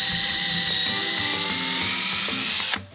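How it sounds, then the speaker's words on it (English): A drill bores a pilot hole in wood for a tack shed door on a horse shelter, a steady loud whine that keeps going for nearly three seconds before cutting off abruptly. "I'm gonna drill a pilot hole first"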